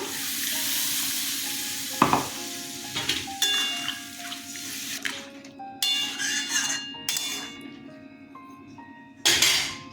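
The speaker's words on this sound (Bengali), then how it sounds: "জল দিয়ে দিলাম" Water poured over ash gourd frying in a pan sets off loud bursts of hissing sizzle, with utensil clinks and stirring scrapes between surges, close and clear.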